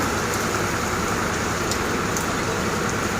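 Rain from a Baishakhi nor'wester storm pours down in a dense, even hiss, with a few sharper patters of drops standing out against the constant wash.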